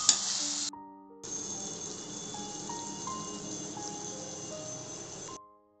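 Wine chicken fries with sugar as it caramelizes in a pan, giving a soft continuous sizzle under steady music tones, broken by a short gap near the start.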